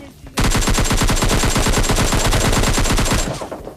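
Rapid automatic gunfire from a video game, a dense sustained burst of loud shots lasting about three seconds with no talking.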